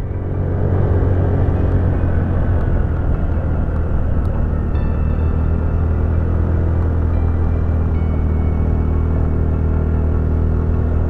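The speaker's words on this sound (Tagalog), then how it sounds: "Sagad throttle ang putik." A Honda Navi scooter runs at full throttle climbing uphill, a loud, steady engine drone with wind rumble filling the whole stretch, no talking.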